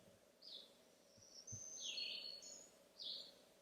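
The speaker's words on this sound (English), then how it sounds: "And another black-throated green warbler over there" A second black-throated green warbler, a male counter-singing in June woodland, gives soft, high buzzy notes in a few separate bursts, distant and faint against steady low ambient hum.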